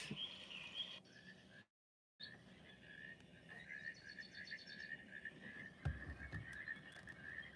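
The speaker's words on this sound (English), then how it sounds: "Crickets and frogs." Crickets and frogs call in a faint, continuous chorus of high chirping and trilling, with a brief dropout of sound partway through and a soft low thump near the end.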